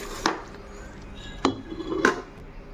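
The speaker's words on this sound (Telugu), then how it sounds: "ఇప్పుడు మనం పప్పు గుత్తుతో మెదుపుకుందామండి." A metal dal masher works cooked moong dal in a pot after the stove is turned off, giving three separate clinking knocks against the vessel spaced over a couple of seconds, close and moderately loud with no talking.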